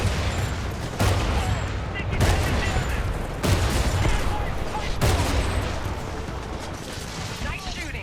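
Heavy gunfire in Titanfall 2, with loud repeated shots and booming bursts arriving roughly every second or two over continuous battlefield rumble and clatter.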